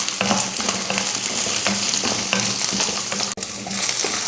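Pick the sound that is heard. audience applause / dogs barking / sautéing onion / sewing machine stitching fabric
sautéing onion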